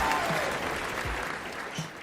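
A crowd's applause at a comedic Transformers chat show, dense broadband clapping holding steady for two seconds with a few faint voice fragments mixed in.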